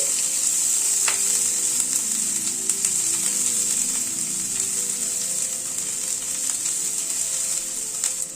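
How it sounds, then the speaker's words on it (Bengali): Chopped onion sautéing in hot oil: a constant close sizzle runs the whole time, with occasional spatula scrapes and a few sharp pops, no voices. "পেঁয়াজটাকে আগে একটু হালকা সতে করে নিচ্ছি"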